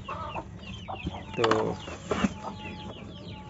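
Chickens in a home coop cluck and squawk close by, with a louder burst in the middle, amid clicking and rattling noises and a brief spoken word.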